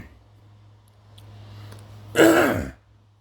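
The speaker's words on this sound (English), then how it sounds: "I'm clearing my throat" A single person clears their throat once, a short rough rasping burst near the end, close to the mic over a faint steady hum.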